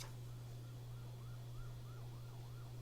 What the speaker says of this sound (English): Siren outside.